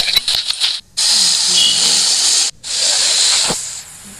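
Malai kofta balls deep-fry in hot oil with a loud, steady hiss that runs in two long stretches, broken by a short gap, then fades out near the end.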